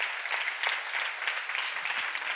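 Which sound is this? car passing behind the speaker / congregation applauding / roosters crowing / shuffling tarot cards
congregation applauding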